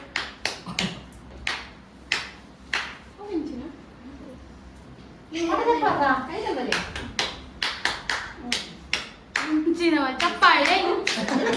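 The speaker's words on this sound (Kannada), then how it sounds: "ಚಪ್ಪಾಳೆ" A group claps together during a laughter-clapping exercise done in an NCC-style drill. Crisp, rhythmic claps sound in bursts, first sparse and then denser and faster, with voices calling out and chattering between and over them.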